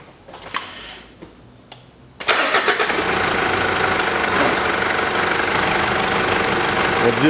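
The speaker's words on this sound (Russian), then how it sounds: "Завожу автомобиль." A 2008 Mitsubishi Pajero in a parking lot starts up: a few faint clicks, then a sudden crank and catch at about two seconds into a steady, loud idle that continues to the end.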